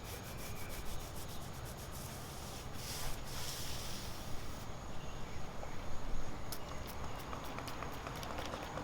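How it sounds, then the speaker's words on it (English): A small scrub brush scrubbing years-old dirt off a 2001 BMW E46 M3 during a rear wing spoiler install, continuous close bristly rubbing strokes with rhythmic scratchy bursts, no talking over it. "Do it with this little scrub. Just do it soft though."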